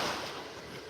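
Ocean surf at Vanderbilt Beach in North Naples, Florida, a brief broad wash of waves with wind noise, fairly faint and fading slightly.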